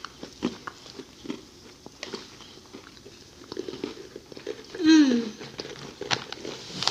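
Oreo cookies, including white fudge covered ones, are bitten and crunched close to the mic, giving repeated crisp snaps and chewing bursts between voices talking.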